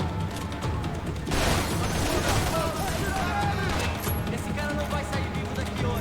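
Dense, loud shotgun fire from the video game Max Payne 3, repeated blasts and crashes overlapping in a busy battle mix with a voice talking underneath.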